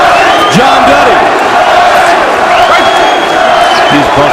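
A boxing arena crowd roars steadily throughout, a loud dense mass of cheering and shouting with individual yells rising out of it, while a commentator talks over it.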